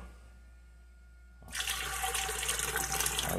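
Water pours from a clay water pot in a rural Minas Gerais house, starting abruptly after a quiet moment and continuing as a steady, fairly close splashing rush with no talk over it.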